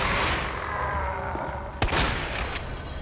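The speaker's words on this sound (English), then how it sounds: "Let's use the shotgun." A shotgun blast in the Resident Evil 2 Remake survival horror game: one sharp, loud boom with a brief decay, sitting over a dense, steady bed of game ambience.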